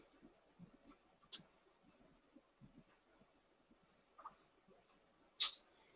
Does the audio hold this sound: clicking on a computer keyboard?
yes